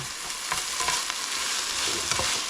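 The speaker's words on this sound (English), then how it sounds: "we're just going to stir these around till it becomes fragrant" Peppers sizzling and frying in a hot pan while being stirred, a steady close crackle with soft scraping strokes throughout.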